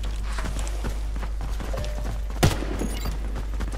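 Gunfire in the shooter game Warface: faint scattered pops over a low steady hum, broken by one sharp, loud shot near the middle.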